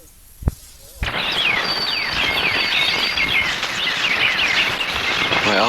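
Birdsong from a tape recording called Bird Walk, with dense chirping and warbling from several birds that begins after a brief sharp click and a short quiet lead-in, then continues steadily and fairly loud throughout.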